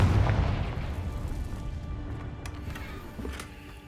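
A Confringo blasting spell in Hogwarts Legacy detonates in a deep, loud boom at the start, its rumble decaying slowly over several seconds with faint crackles, no voices.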